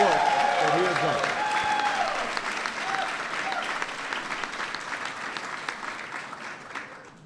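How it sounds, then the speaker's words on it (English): A large audience at a reception applauding, loud and dense at first and slowly thinning, with a voice and cheering heard briefly at the start. "So please give him a big round of applause for all the work that he has done."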